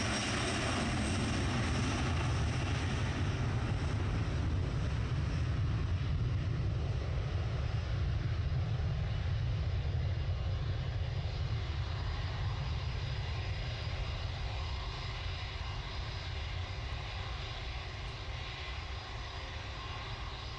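Light aircraft engine droning on the runway at Manchester Airport during takeoff, a steady loud propeller roar that holds for the whole stretch and eases slightly toward the end, with no talk.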